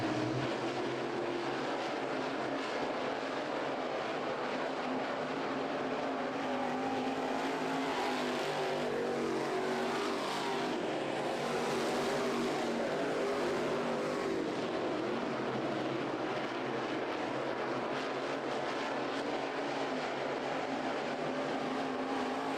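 Dirt late model race cars roar around the track during a night heat race at a Winternationals event in Ocala, giving a continuous loud engine drone that swells and fades slightly as the cars pass, with no voices.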